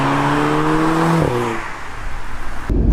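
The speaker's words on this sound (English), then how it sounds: "That was a first sort of full throttle acceleration" A facelifted 2016 Audi S3 pulls hard at full throttle, its engine note climbing steadily before a sharp break at a gear change, then a rougher rumble of wind and road noise.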